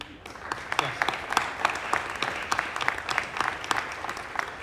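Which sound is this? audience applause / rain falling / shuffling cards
audience applause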